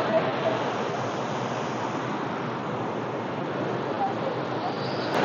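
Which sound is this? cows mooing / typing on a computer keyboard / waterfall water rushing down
waterfall water rushing down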